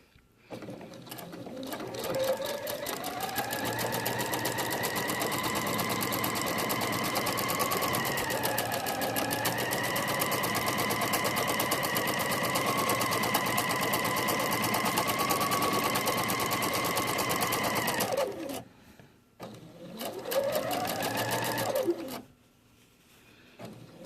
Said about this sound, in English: I'm going to stitch down the rest of it all the way down to the bottom and do the reverse stitch on the bottom.